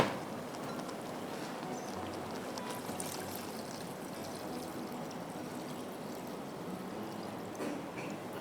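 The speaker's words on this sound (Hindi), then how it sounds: "इसके अंदर मैं पानी डाल दूँगी थोड़ा" Water pours steadily into a pot of cooking mutton for a mandi dish, giving a continuous soft splashing stream at close range that runs unbroken for several seconds with no talk over it.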